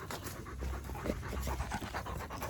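Several friendly dogs of unknown breed pant steadily and close by, a continuous, rough, breathy rhythm with no talk over it.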